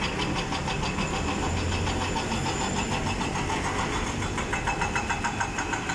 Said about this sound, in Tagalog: maganda naman ang agos ng flow ng mga traffic, mga sasakyan